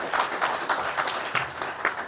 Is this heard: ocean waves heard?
no